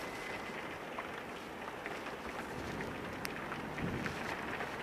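Steady rain pours down during a violent electrical thunderstorm in Carpentras, a continuous dense hiss that holds through the whole stretch with no voices.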